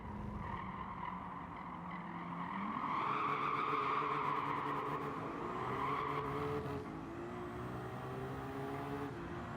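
Race car engine in Gran Turismo 7 revving hard out of a corner with wheels spinning, a sustained loud droning roar with tyre squeal that rises and shifts pitch over several seconds, heard alone.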